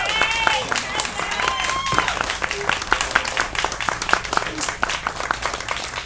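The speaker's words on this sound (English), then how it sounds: "Let's give a big round of applause for her." An audience applauds steadily with dense, continuous clapping, mixed with a few whistles and cheers close by.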